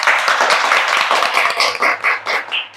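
Audience clapping at a college fresher's party, a dense, steady burst of many hands applauding together at close range, with scattered individual claps standing out and no talk.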